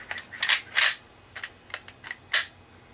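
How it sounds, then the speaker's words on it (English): The charging handle and bolt of an FN-FAL rifle make a quick run of metallic clacks and snaps, close and crisp, with short gaps between them. "pull back on the charging handle until the bolt lock releases"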